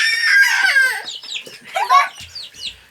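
Baby ducklings and chicks peep in a steady, high-pitched chorus, loud and close, fading toward the end with a few softer chirps and faint handling noise.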